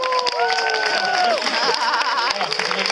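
A crowd claps and cheers loudly and steadily throughout at a children's street show, with a voice rising and a few whistles or shouts over the dense applause.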